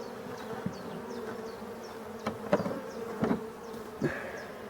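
An evening honeybee swarm fallen into nettles, housed in a box with plexiglass, hums with a steady, close buzzing, broken by a few louder bees passing near.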